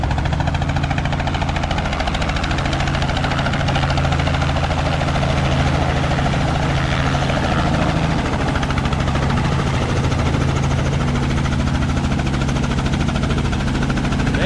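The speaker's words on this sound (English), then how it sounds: "They got a spraying crop dusting helicopter here." Crop-dusting helicopter spraying and flying low over a farm, a steady loud rotor and engine drone with strong low-pitched pulsing throughout, close by and continuous.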